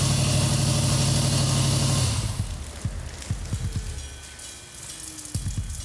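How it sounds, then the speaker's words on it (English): A Plymouth 'Cuda convertible engine runs at a steady idle for about two seconds, then drops away, leaving scattered clanks and knocks against quieter background noise. "Engine runs good."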